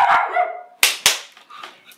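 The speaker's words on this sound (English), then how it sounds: "So Izzy decided to bark again" A dog barks indoors, a couple of sharp, loud barks in quick succession with a softer yelp or vocal sound before them, close to the listener.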